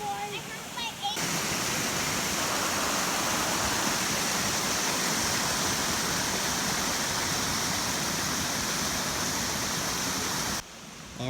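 A river rushes steadily and loudly over rocks by a cave, a dense continuous roar of flowing water that fills the whole stretch at close range, with a brief quieter moment at each end.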